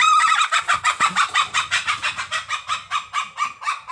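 Hens in a chicken coop cluck steadily in a close, rhythmic run of repeated calls, loud and with no talking over them.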